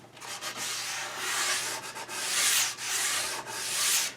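Sandpaper rubbing along the fillet, a small square notch on the edge of a wooden molding, in steady back-and-forth strokes, close and moderately loud, with brief pauses between passes and no talking.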